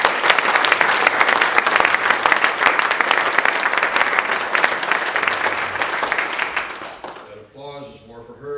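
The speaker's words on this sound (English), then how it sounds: "That applause is more for her than for me." Loud, sustained applause from a large audience at a retirement celebration fills the room, then tapers off near the end.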